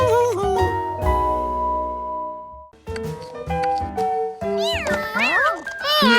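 A cartoon kitten meows in short high-pitched cries over playful background music, with a sustained chime and springy toy-like sound effects between them.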